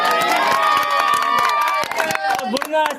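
Punjabi village crowd at a sarpanch election announcement claps and cheers, with dense, steady clapping, shouts and overlapping voices throughout.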